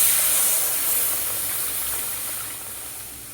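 Water poured into a hot pan of snail curry, giving a loud, bright sizzling hiss that starts strong and slowly fades over a few seconds, with no talking.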